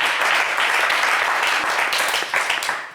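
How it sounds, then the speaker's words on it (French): A studio audience on a French TV game show applauds loudly and continuously for a contestant, a thick, close wash of clapping throughout. "on vous applaudit quand même très, très fort, Juliana"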